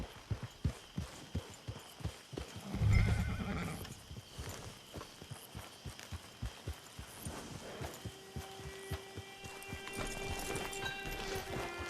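Horse sounds from Red Dead Online: a steady run of hoof clip-clops throughout, with a loud neigh near the start and quieter snorting later.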